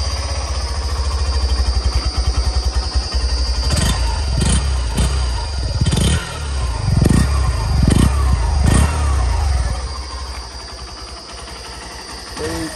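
A Hero Glamour Xtec motorcycle's engine starts and settles into an idle, with a steady low thrum and several short, sharp revs in the middle before easing back down.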